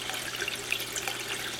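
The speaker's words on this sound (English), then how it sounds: "it will spit water and air, as you'll see here" An Aqua Lifter pump's discharge spits mostly air with occasional water, a faint, continuous trickle with small bubbling splashes and spurts close by.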